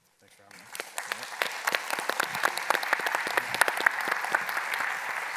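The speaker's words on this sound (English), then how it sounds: "Keep it going. More applause. All the applause." An audience at a Bitcoin conference in Washington, DC applauds, the clapping starting from silence, swelling quickly and continuing as a sustained burst of many hands close by.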